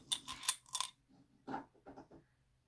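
Euro coins drop and clink together during counting: a close cluster of bright metallic jingles, then a few softer taps, with no speech.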